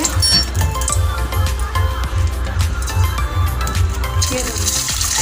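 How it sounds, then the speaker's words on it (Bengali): Two eggs are cracked for an egg curry, with sharp taps and clinks against a hard edge in a kitchen and oil heating in the background. "দুটো ডিম ফাটিয়ে দিয়ে দেবো।"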